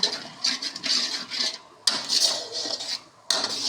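A spoon scrapes and stirs ground spices frying in oil in a metal pan while a fish dish cooks, producing rhythmic rasping strokes in bursts with brief pauses between them, close and fairly loud.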